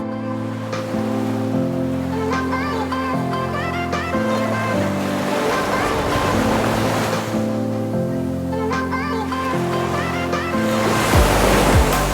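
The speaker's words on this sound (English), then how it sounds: "To wake up to the sound of the ocean right in front of your door." Ocean waves break and wash onto the shore at Mirissa, Sri Lanka, in a continuous roaring surf with swelling crashes, heard close and loud, with soft music playing over it.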